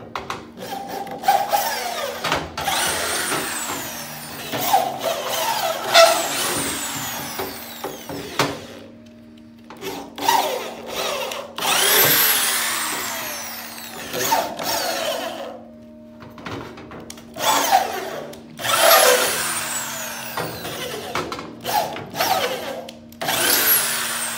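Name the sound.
drill with tap threading a hole in aluminum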